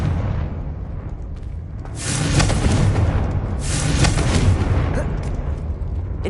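A Confringo explosive spell blast in Hogwarts Legacy, two heavy booming bursts with crackling debris about two seconds apart, loud and close, each rolling into a sustained rumbling tail.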